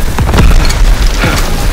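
A bangalore torpedo blast in Call of Duty WW2's D-Day beach assault: a loud, close deep boom with rumbling low-end bursts across the whole stretch, amid continuous battle noise.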